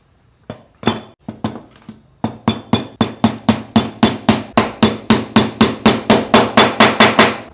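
A nail is driven into eucalyptus wood with a hammer: about two dozen sharp, ringing blows, a few hesitant taps at first, then quick and even, loud and close.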